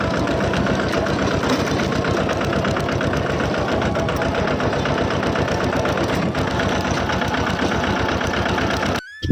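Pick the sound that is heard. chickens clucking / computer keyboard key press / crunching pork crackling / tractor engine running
tractor engine running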